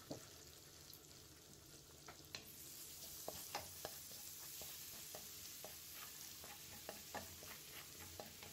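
Garlic sautés in a pan after bacon has been cooked, a quiet continuous sizzle with scattered sharp clicks and taps of a utensil against the pan, close and faint, with no talk.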